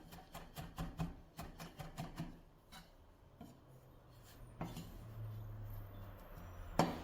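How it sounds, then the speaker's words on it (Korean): A knife minces garlic on a cutting board, tapping rapidly, a quick run of chops at first, then sparser cuts with soft scraping and a final sharp knock. "이번에는 마늘을 작게 다져볼게요"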